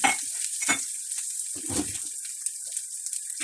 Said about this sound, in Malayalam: അതിലേക്ക് വെളിച്ചെണ്ണ ഒഴിച്ചു കൊടുക്കുക, കടുകിട്ട് കൊടുക്കുക